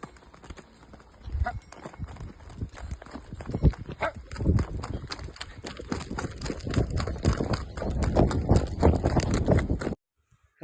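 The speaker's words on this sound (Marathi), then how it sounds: "आज मी शक्ती आणि राजा घोडा काढलो होतो." Horse hooves clip-clop as a rider sets out, a rapid run of sharp hoof strikes that grows denser and louder before stopping abruptly, with faint background voices.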